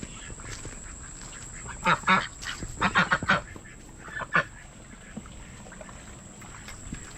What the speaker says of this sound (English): The baby ducks are out and swimming.